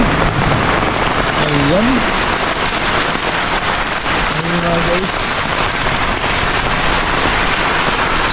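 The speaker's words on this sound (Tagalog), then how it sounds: "napakalakas ng ulan" Heavy rain pours down in a dense, continuous hiss, close and loud, while someone speaks briefly over it.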